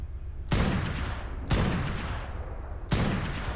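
Three heavy gunshots in a video game land at spaced intervals, each a sharp loud blast that decays into a long booming tail, with no talk.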